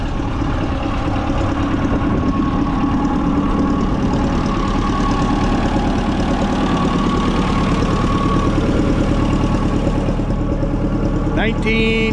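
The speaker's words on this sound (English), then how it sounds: "Here you get to see one of them, one of the tractors they just finished up running and driving." A 1953 Minneapolis Moline tractor engine idles steadily and loudly for the whole stretch, a continuous mid-low rumble close by, with voices of onlookers mixed in underneath.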